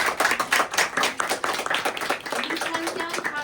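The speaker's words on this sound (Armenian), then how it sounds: "ծափահարություններ" Applause at a school book celebration honoring Hovhannes Tumanyan, heard as a short burst of many hands clapping in a room, close and lively, with some voices mixed in.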